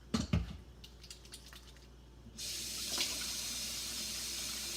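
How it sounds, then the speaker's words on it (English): Hands washed under a running kitchen tap: a few clinks and splashes, then water flows steadily and fairly loudly to the end, with no talking. "Okay, I'm gonna wash my hands."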